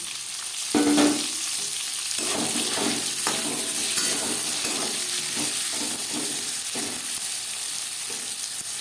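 Onion and tomato sizzle in refined oil in a kadai just used for frying potatoes for chicken biryani, a steady loud hiss broken by stirring scrapes.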